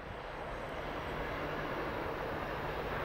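A presidential-flight Boeing 777-300ER jet on approach to land at Geneva airport gives a faint, distant, steady engine roar that stays even throughout.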